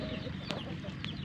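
Chickens cluck in a riverside yard among mixed poultry including ducks, several short clucks over a low constant background, with two sharper calls standing out.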